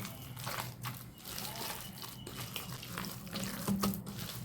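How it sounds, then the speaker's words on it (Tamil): A little more water poured into thick pakoda batter in a village tea-shop kitchen: a close, continuous trickle and splash with faint crinkly rustles mixed in. "இன்னும் கொஞ்சம் தண்ணி ஊற்றிக்கலாம்."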